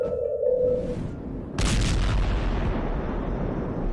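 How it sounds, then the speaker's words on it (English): Deep booming rumbles of the Seneca guns, the mysterious booms heard off the North Carolina coast, rolling as a loud, sustained low roar that swells after a steady tone fades and keeps rumbling to the end. "Earth-shaking booming sounds have been reverberating off some parts of North Carolina for more than 150 years."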